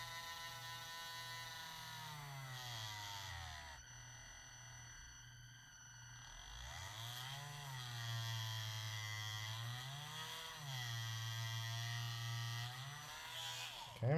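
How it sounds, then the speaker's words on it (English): A power drill whines steadily up close, its pitch dipping and rising as it bites through material, with a brief slowdown midway. "Let's go and drill a hole through here."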